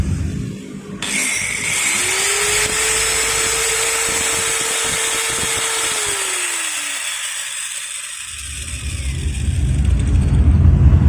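A Maktec MT954 angle grinder, just fitted with a rewound stator, runs at a steady, loud high whine with a tone that rises and holds, then spins down before a rumbling noise returns.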